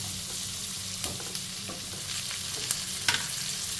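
Onions softening in a pan with green chili, sizzling continuously at close range while a spoon stirs them, with a few sharp clinks against the pan.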